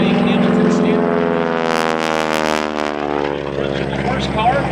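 A stunt biplane with a supercharged, fuel-injected 985 radial engine spinning a big Hamilton Standard propeller at an airshow, a loud continuous droning roar with a subtly shifting pitch as it maneuvers, under an announcer's voice.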